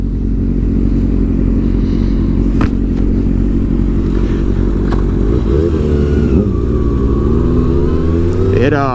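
A motorcycle with a new DID chain and a lowered stance is ridden along, its engine droning loud and steady up close with wind rumble, then rising and falling pitch as the throttle and gears change near the end.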